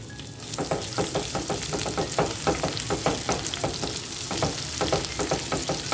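Chopped green chillies frying in oil over a low flame for a Rajasthani papad curry, a bright steady sizzle broken by regular spatula stirring strokes, close and alone without speech.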